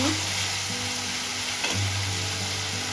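Spice paste (masala) frying and being stirred in a pan, with a steady loud sizzle and a low hum running underneath and a brief scrape of the spatula partway through.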